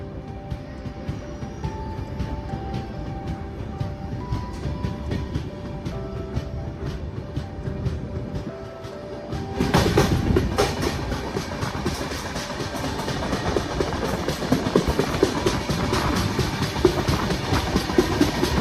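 Mysore–Jaipur superfast train at Sevagram Junction, with a steady low rumble of the carriage around the listener that swells louder and fuller midway with rhythmic rail clatter, heard alone without voices.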